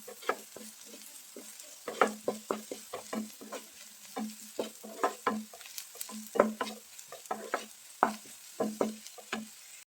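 Onions and black pepper powder are sautéed in a pan with a spoon, giving repeated scraping stirs in an uneven rhythm over a soft sizzle, close and clear with no voices.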